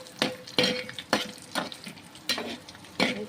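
Salt and green chillies fry and get stirred in a kadai, crackling sizzle with about seven spaced scraping strokes of a spatula, close and moderately loud, no talk.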